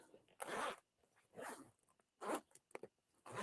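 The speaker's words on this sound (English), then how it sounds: "Oh, it's got a double zipper." A metal double zipper on a bag being zipped and unzipped, four short separate rasping pulls close by in a quiet room.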